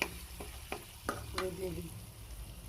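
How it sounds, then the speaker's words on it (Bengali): Soft sizzling of dried fish frying in a pan, with a few scraping stirs and clinks of a spatula, fairly quiet and close. "কড়াইতে শুটকিগুলো দিয়ে ভালো করে ভেজে নেব।"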